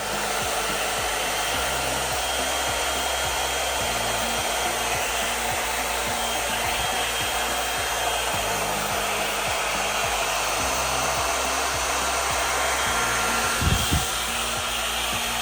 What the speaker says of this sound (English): I am back after styling Goddess by Raquel Welch with the NV 3-in-1 styler